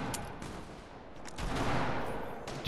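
Gunfire in the video game Fortnite, a dense, continuous burst of rapid shots that swells louder toward the middle and keeps going to the end.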